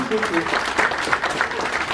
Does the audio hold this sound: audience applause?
yes